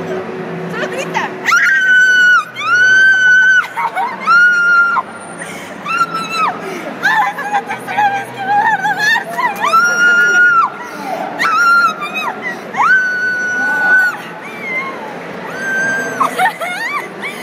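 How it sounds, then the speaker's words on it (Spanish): A contestant at a television show event lets out a series of very loud, high-pitched screams in support of anime characters, each held for about a second, with crowd noise and chatter in the background. "nos va a dar el grito más fuerte y más agudo en favor de los personajes de Gaara y Hinata"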